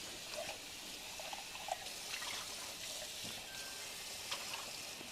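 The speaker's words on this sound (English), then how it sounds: "Let me just rinse this out." Running water trickles while something is rinsed out in a kitchen during egusi soup preparation, a faint, steady dribble with no talk.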